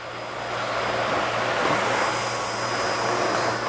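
A Miele Guard S1 Parquet canister vacuum runs steadily and loudly with a constant motor whine and broadband airflow rush, pushed across carpet without pause.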